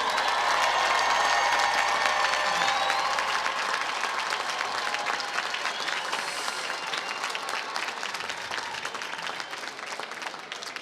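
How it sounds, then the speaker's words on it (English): Sustained applause for graduates at a commencement ceremony, a large crowd clapping loudly and steadily throughout, slowly thinning slightly toward the end. "Let's have a round of applause for our graduates."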